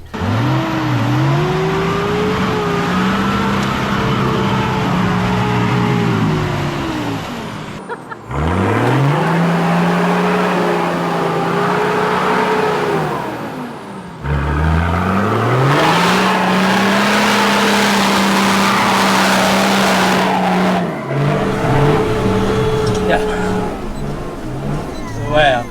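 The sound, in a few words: car engine revving through mud in third gear, clutch drop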